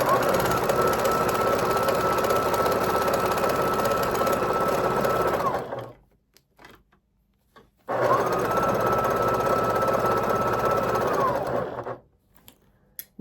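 Quilting sewing machine stitching at a fast, steady mechanical buzz in two long bursts separated by a pause, running out of bobbin thread, loud and close.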